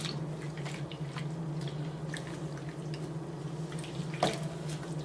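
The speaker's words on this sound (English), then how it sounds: "I'm gonna gently massage the suds into the cover and the water into the cover" A wool cover is gently massaged in soapy water in a sink, giving soft, quiet squishing and sloshing over a steady low hum, with one brief louder splash near the end.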